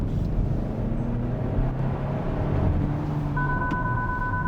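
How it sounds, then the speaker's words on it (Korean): A Hyundai Santa Fe 2.5T gasoline six-seater accelerates briefly on a congested city expressway, heard from inside the cabin as a steady low engine drone with faint tonal whine and road rumble, no talk. "잠깐만 길이 뚫렸을 때 잠깐만 가속을 해보면"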